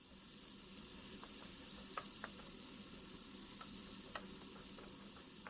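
Potatoes frying together in a pan for a veggie-stuffed Spanish omelette, a soft, even sizzle with a few faint clicks of stirring, fairly quiet and without talk.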